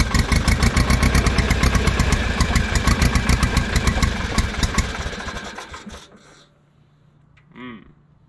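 Engine of a 1950s barn-find Schramm air compressor firing up and running with a rapid, loud, close chugging beat, then cutting out and going quiet, with a short voice near the end.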